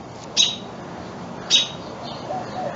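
A baby bird gives two sharp, high chirps about a second apart while it is being caught outdoors, followed by fainter calls, with no talk.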